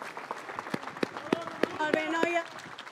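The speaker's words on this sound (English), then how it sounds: "Give them a round of applause." Crowd applause for a Catalan firefighters' rescue team finishing a run at a vehicle rescue challenge, sharp claps and cheering building over about three seconds, with a voice speaking over it.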